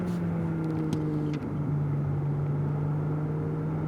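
An 830 hp Ferrari 296 GTB drives on the Nogaro circuit, its engine a steady, droning hum heard from inside the cabin, with a brief dip in pitch partway through before it settles back into an even tone.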